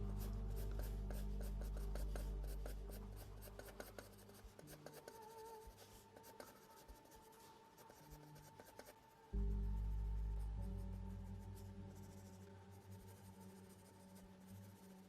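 Pencil sketching on paper while drawing a character's head, adding light lines around the throat and hairline: continuous soft scratchy strokes, close and steady, with no talking, alongside a steady background hum.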